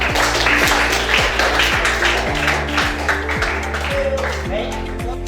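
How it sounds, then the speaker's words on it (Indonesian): A classroom group applauds a student group, dense clapping that runs throughout over a steady electrical hum. "kasih aplaus dulu kelompok 3"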